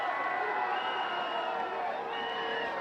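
A crowd at a boys varsity high school soccer game cheers and shouts after a goal, a sustained distant roar of voices that swells and holds for a few seconds.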